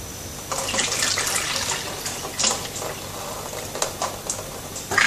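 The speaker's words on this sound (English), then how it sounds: "we'll just top up the water until she's near the top" Tap water runs steadily into a home-brewing vessel to top it up while brewing a Nelson Sauvin ale, a close, continuous splashing rush with a few brief clanks.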